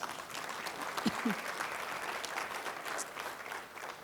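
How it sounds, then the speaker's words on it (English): Faint, steady applause from an audience at an awards keynote event after mention of a state governor, with a brief voice sound cutting through the distant clapping. "Give him another round of applause."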